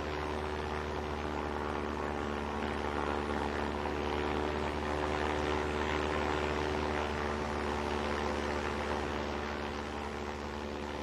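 A light amphibious aircraft's engine drones steadily, its pusher propeller mounted on a pylon, giving a constant, even hum with a strong low tonal buzz and no talking.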